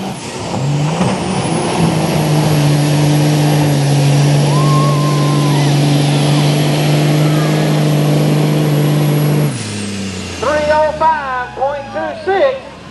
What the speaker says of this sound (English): Prince of Toledo on an old 7 Dodge.